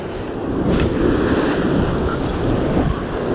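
Ocean waves crash and wash steadily against a rocky shore near Wollongong during rock fishing, a loud close roar of surf mixed with wind buffeting the microphone, with no talk.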